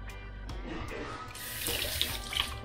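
Tap water runs steadily into a kitchen sink as thyme sprigs are rinsed under the faucet, a close, continuous splashing stream that swells louder toward the end.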